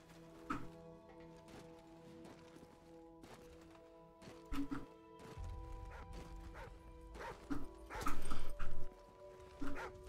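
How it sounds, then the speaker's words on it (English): A dog in Call of Duty 4: Modern Warfare barks several times in irregular bursts over a steady in-game ambient drone, with the final barks louder and closer. "That's a dog."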